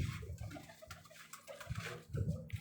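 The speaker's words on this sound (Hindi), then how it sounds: "ये शर्मीला कबूतर है दोस्तों" A Sharmila pigeon coos softly and close up in a few low, throaty bursts, with light shuffling and patter between calls on a rooftop loft.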